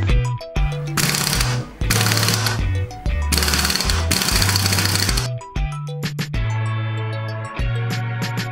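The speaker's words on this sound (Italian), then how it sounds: "usando una bussola da 19 e una pistola pneumatica, andremo a svitare il dado della frizione" A pneumatic impact wrench with a 19 mm socket loosens the clutch nut on a scooter, firing in several loud, rattling hammering bursts of about a second each, separated by short pauses, close up in a workshop.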